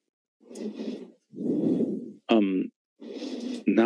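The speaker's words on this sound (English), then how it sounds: "Now we've got heavy breathing." Heavy breathing close to a microphone, four loud breathy exhales in slow succession with brief pauses, plus a short voiced sound between them.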